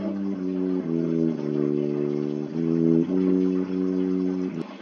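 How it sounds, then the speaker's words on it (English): A tuba, the lowest-pitched brass instrument, plays a few sustained low notes one after another with short breaks between them, rich and buzzy, heard alone without talk. "So that's the sound of tuba,"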